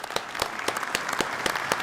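Sustained applause fills a conference hall at a NATO summit in The Hague. Many hands clap steadily and densely with sharp individual claps on top, continuous and fairly loud.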